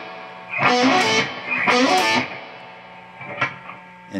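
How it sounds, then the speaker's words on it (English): An electric guitar plays a fast slide and hammer-on lick from the intro solo of a song, with two bright rising phrases followed by a softer trailing note, heard alone and close. "It's kind of a slide and hammer-on lick"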